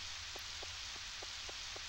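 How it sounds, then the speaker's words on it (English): Rain falls in the Nintendo 64 farming game Harvest Moon 64 as a soft, steady hiss with faint, regularly spaced ticking taps, quiet throughout with no talk. "First day of rain in a while."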